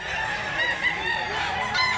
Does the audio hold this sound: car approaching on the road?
no